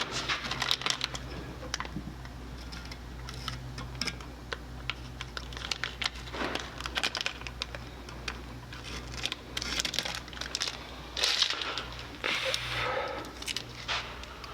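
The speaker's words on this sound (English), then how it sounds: "If you pull the tape tight as you're cutting it," An X-Acto knife cuts masking tape pulled tight over an intake manifold being prepped for powder coating, giving quiet, irregular ticks, crinkles and small tearing sounds close by, with no talking.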